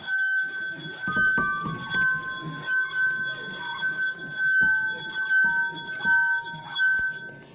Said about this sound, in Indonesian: masukkan 3 ruas jari, putarkan pada sekeliling bibir gelas